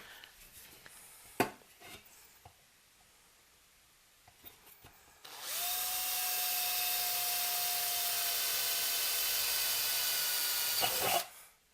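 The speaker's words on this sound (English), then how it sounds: "We'll drill these two holes." Power drill boring two holes in a DIY phono preamp chassis, a steady loud whine with a faint tone that runs for about six seconds after a few light taps and handling knocks.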